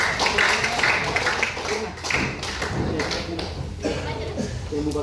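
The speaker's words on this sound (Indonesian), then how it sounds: "Tepuk tangan dulu untuk kelompok." A school class in Asmat, South Papua claps for the first group to present, giving sharp, uneven handclaps and taps close by with voices talking over them.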